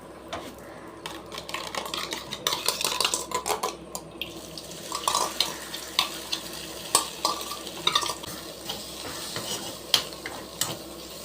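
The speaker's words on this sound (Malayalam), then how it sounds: "മുട്ട പൊരിക്കാനാണ്" An egg fries in oil in a pan with onion, green chilli and salt, sizzling steadily while a spatula scrapes and taps against the pan in irregular clicks.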